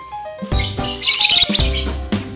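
A lovebird chirps loudly and close by in a quick string of sharp, bright calls broken by short whistled notes, with no other sound around it.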